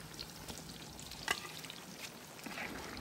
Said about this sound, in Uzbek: Mana shunaqa chiroyli qizargunicha qovurib olamiz